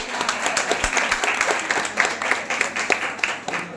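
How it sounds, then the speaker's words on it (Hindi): An audience at a Jain sermon claps together in sustained, dense applause, a steady patter of many hands lasting several seconds without a break. "एक बार फिर से ताली बजा दें।"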